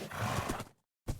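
A Minecraft horse whinnies loudly and at length, falls silent for a moment, then another short burst of sound starts up.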